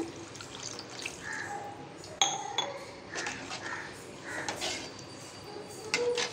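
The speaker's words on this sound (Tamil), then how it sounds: "இப்போ இன்னும் கொஞ்சம் கூட தண்ணி சேர்த்துக்கிறேன்" Water poured and added to a pot of tomato sambar, with splashing, dripping and light clinks of metal and glass, fairly quiet and close.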